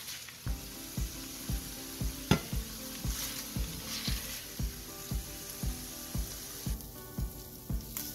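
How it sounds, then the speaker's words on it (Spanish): Shrimp fry in chicken fat in a pan for fajitas, a soft steady sizzle running under background music with a regular, evenly spaced thumping beat. "ahí mismo vamos a cocinar un poquito los camarones"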